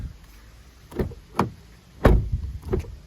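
A few car door thumps and clicks on a 2021 Citroen C3 Aircross, close by, spaced irregularly over a few seconds in a quiet setting.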